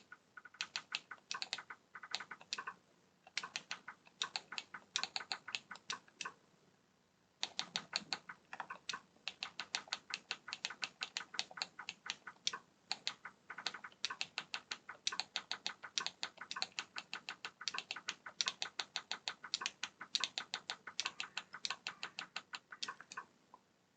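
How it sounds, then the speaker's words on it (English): Typing on an old 1990s-style computer keyboard, a long run of rapid, clacky keystrokes in irregular bursts, close and steady, with one short pause early on. "Sounds like a 1990s keyboard."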